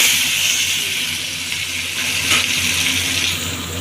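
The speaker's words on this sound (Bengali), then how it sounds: "আর আলুটাকে ছেড়ে নিই।" Potatoes dropped into hot oil in a home kitchen, giving a steady, loud, broadband sizzle that holds for a few seconds and swells slightly midway, with no talking.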